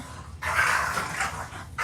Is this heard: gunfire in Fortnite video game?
no